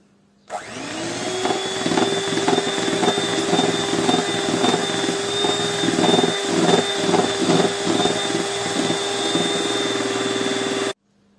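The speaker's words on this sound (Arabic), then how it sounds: "هنضربهم بالمضرب كويس لغايه لما يبقى لونهم كريمي او ابيض زي الكريم شانتيه كده" An electric hand mixer whips vegetable ghee for petit fours, starting with a sharp whine and then running as a loud, steady motor hum with rhythmic beater rattles for about ten seconds before cutting off abruptly.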